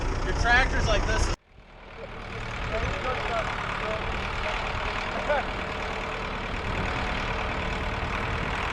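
A tractor engine idling with a steady low rumble that sets in after a brief cut and runs on evenly, close by, with voices talking over it.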